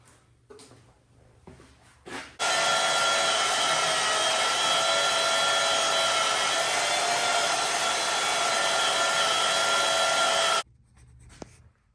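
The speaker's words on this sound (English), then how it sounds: "I thought my Sawzall blade was dull. Turns out it's not. That is a solid chunk of steel." A reciprocating saw (Sawzall) cuts through a solid chunk of steel on a John Deere Flex 71 planter, giving a loud, steady high-pitched buzzing grind that holds for about eight seconds before stopping abruptly, with brief handling noises before and after.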